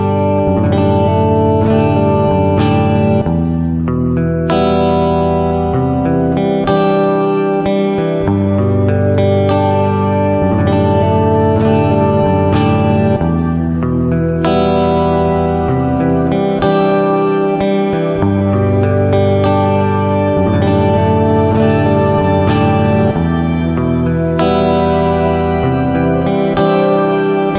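Electric guitar run through a Boss GT-1000 with two pitch shifters set an octave and two octaves up plus reverb, playing a continuous stream of chiming, layered notes with a washy, sustained tail, loud and alone.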